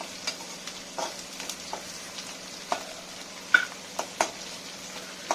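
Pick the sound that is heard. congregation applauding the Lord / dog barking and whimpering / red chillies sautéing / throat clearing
red chillies sautéing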